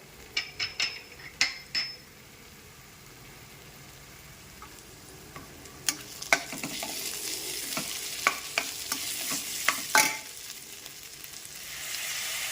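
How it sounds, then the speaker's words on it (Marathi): Cut dry fruits frying in a pan for a spicy Maharashtrian coconut rice, a steady sizzle punctuated by clinks and scrapes of a spoon stirring, with sharper taps early on and a brighter hiss later. "आता आपण थोडेसे ड्रायफ्रूट्सचे कट त्या ठिकाणी घेतलेले आहेत, तर ते थोडेसे फ्राय करून घेऊया"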